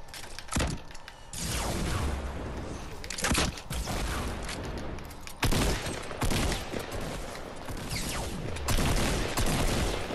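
Gunfire in the battle royale game Fortnite: several loud, close bursts of shots and impacts arrive in clusters, separated by short gaps of rattling, mechanical clatter.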